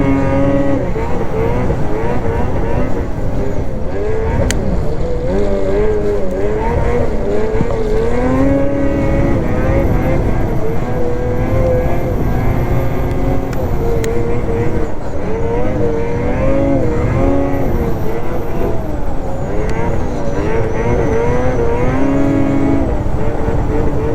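A 2027 Ski-Doo XRS 600RR snowmobile engine runs loud and continuous at throttle, its pitch rising and falling as it revs, heard close with wind and track noise mixed in.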